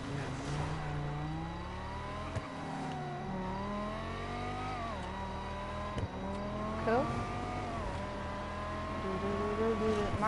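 A car driving in GTA, its engine humming and rising and falling in pitch as it accelerates and shifts, steady and close throughout, with occasional tire squeal and a voice talking over it.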